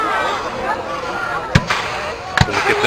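Two sharp, booming blasts about a second apart, cannon shots at a distance at a Civil War reenactment event, over a crowd chattering steadily throughout.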